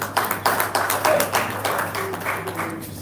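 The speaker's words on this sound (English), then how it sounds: "Please, a round of applause." A modest audience at a live event gives a round of applause, scattered individual claps rising and thinning over a few seconds with a steady low hum behind.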